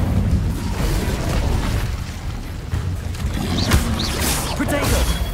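A fiery burst from the Incendio spell in Hogwarts Legacy, heard as a loud, dense rumble of whooshing flame and booming impact noise that carries on through the whole stretch, mixed with other game effects.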